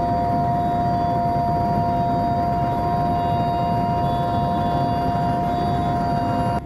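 Skyone Airways Mi-17 helicopter in flight on a Guwahati to Tawang route over Bhutan, its loud steady engine and rotor drone heard from inside the cabin with a constant turbine whine running through the whole stretch.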